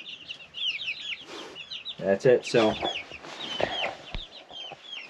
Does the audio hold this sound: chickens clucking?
yes